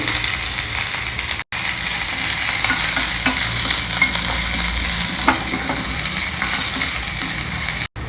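Grated ginger, green chili, curry leaves and broken cashews frying in hot oil for a South Indian festival dish, a loud steady sizzle with light stirring, broken by two brief silent gaps.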